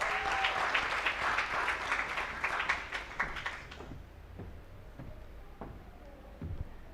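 An audience at the AGRF 2023 GoGettaz Agripreneur Prize finals applauds Esther Kimani. Dense clapping fills the first half and then stops abruptly. A few isolated taps and soft room noise follow.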